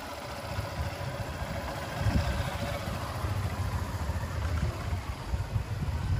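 Motorcycle engine at a riding exam revving and accelerating with a low, rumbling drone that rises and falls, heard at moderate distance without voices.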